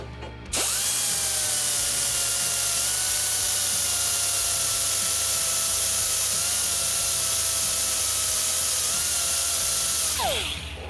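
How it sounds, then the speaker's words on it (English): Steady, loud metal grinding on a DIY tube and pipe bender kit part, an angle-grinder-like whine holding for about ten seconds after a sharp start, then spinning down at the end with no voices. "So you need to grind right in this area"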